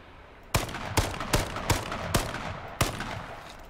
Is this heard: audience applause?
no